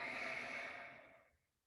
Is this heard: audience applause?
no